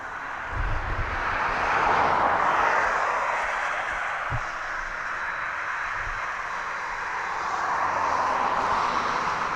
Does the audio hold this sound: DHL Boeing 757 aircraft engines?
yes